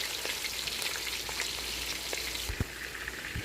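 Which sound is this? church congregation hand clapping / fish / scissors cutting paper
fish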